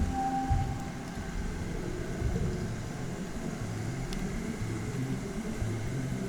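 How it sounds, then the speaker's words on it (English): Steady rain falls outdoors, a continuous broadband hiss with a low rumble underneath that holds at an even level for the whole stretch, with no voices over it. "And still raining."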